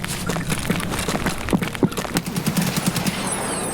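Dense gunfire in Escape from Tarkov, with rapid overlapping bursts and single shots crackling continuously at close to mid distance throughout.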